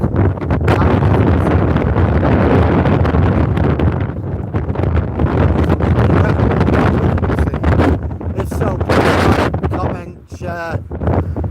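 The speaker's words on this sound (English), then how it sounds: "this very windy walk." Heavy wind on a beach buffets the microphone in loud, continuous low rumbling gusts, dropping briefly near the end before roaring back.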